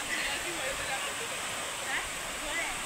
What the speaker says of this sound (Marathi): हे बघा, झरा झरा बघा कसं छान दिसायला लागलं।